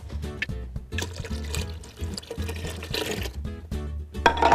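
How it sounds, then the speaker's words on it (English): Water poured into a pot holding chicken, a steady liquid trickle and fill sound with kitchen clatter, fairly close and moderately loud, no talking. "I'm going to go ahead and add about another 2 cups of water"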